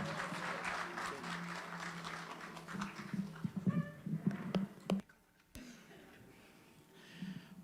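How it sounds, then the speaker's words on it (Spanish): Applause from a congregation at a Sunday church service, welcoming the preacher to the pulpit: a dense, steady clatter of clapping that swells and then breaks off, leaving a quieter room with a few scattered sounds. "Recíbalo con un fuerte aplauso."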